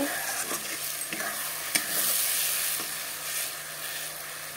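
Tomatoes frying in hot oil in a pan for a katla fish curry with potatoes, a continuous close sizzle with a few sharp stirring clinks and scrapes, no talking.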